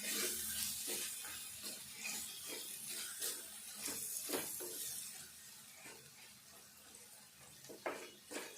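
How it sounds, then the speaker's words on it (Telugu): Chili powder fries in oil in a pan for egg curry, a faint steady sizzle with soft scraping and occasional light taps of a utensil against the pan. "ఈ కారం కూడా కొద్దిసేపు ఈ నూనెలో మంచిగా ఫ్రై కావాలి."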